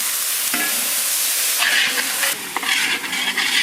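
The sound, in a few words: water added to pan for gravy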